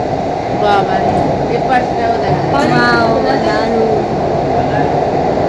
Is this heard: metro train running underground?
yes